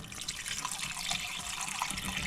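Broth pours steadily into a pot over onions for French onion soup, a continuous splashing, trickling stream heard close and alone.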